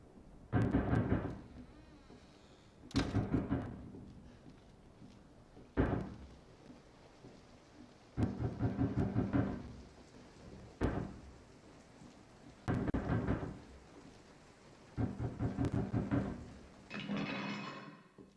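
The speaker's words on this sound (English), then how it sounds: "Why did the rain stop?" Rain and rolling thunder in the Resident Evil 7 video game, heard as a series of low rumbling bursts recurring every few seconds over a soft background, with no talking.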